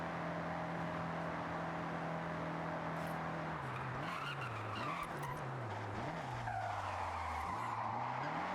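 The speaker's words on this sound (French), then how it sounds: "Un petit frein à main." A car in the Forza Horizon 6 racing game slides through a handbrake skid, tires squealing over a steady engine drone whose pitch wavers and dips as the car drifts, loud and continuous.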